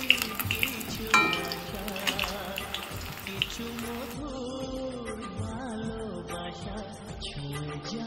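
Cauliflower pakoras fry in reused hot oil, giving a soft, continuous crackling sizzle with light popping, heard close and at moderate volume beneath tonal background music.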